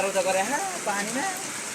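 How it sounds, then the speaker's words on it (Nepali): A constant hiss of heavy rain pours down while a person speaks over it. "लास्टै ठुलो पानी पर्यो"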